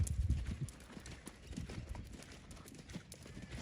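Horse hooves clip-clop at a trot on an arena surface, a rhythmic series of moderately close beats with light snorting, during a downward transition under a rider.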